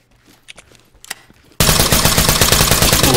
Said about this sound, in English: can hear the gunfire